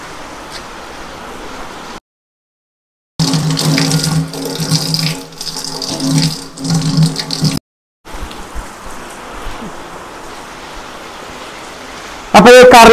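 Curry leaves rinsed under a running kitchen tap, a steady water splash that cuts out briefly twice and surges louder mid-stretch, with speech briefly at the end.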